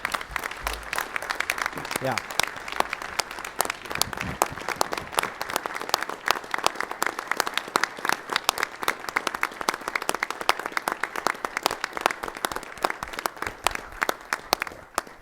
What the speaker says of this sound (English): A round of applause to all our volunteers.